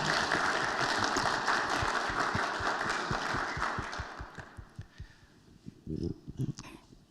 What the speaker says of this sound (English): Give Matt a big clap.